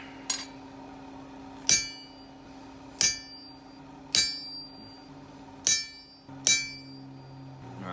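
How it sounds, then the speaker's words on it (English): Six sharp, ringing hammer blows on a small punch scoring hot steel at a blacksmith's anvil while forging a planter stake, spaced about a second apart, each clang decaying over a steady background hum. "I'll actually score this other side first, just with this little punch."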